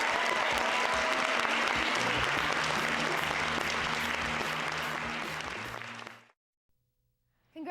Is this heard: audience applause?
yes